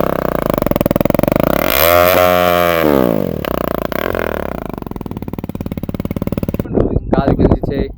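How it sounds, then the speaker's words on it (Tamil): A motorcycle engine revving hard and loud nearby, its pitch climbing and falling through several throttle blips before cutting off, followed by people talking. "நம்ம மது கோவிந்தன் வண்டி இப்போ பாருங்க"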